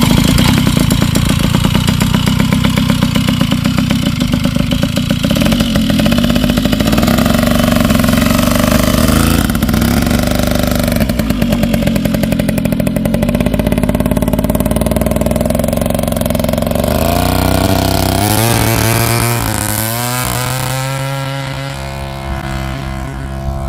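A tuned Motobecane 88 moped engine buzzes loud and close during ride-by passes, holding a high revving whine before the pitch sweeps and drops as it eases off near the end.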